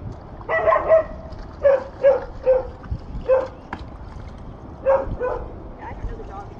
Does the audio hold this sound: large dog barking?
yes